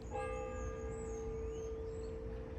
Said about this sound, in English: Just let that bell ring.